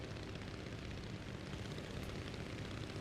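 Ryan S-C aircraft engine heard from outside in Microsoft Flight Simulator, a continuous, even propeller drone with a broad hissing wash, steady and fairly quiet, no talking.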